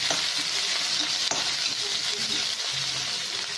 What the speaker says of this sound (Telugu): ఇప్పుడు దీంట్లో పచ్చిమిరపకాయలు, కరివేపాకు, ఉల్లిపాయలు వేసేద్దాం. వేసేసి వేగనిద్దాం.